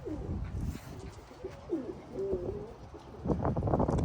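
Tame pigeons on an eco farm near Kyiv coo softly nearby in low, rolling calls, repeated several times over a busy background of rustling and other birds.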